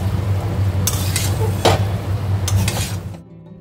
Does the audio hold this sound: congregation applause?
no